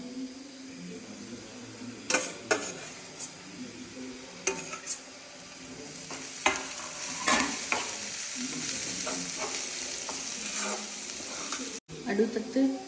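Ginger fries in a pan with a steady sizzle while a spoon scrapes and clinks against the metal in irregular strokes, close by and moderately loud.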